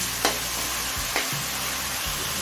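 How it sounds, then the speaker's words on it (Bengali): Ginger-garlic paste frying in a pan makes a steady sizzle, broken by two sharp stirring knocks, close and without speech. "আদা রসুনের কাঁচা গন্ধ চলে যাওয়া পর্যন্ত কষিয়ে নিলাম"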